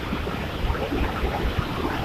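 Floodwater of the Khari river rushing across a culvert crossing, a steady broadband roar with choppy surges, close and loud, with no voices.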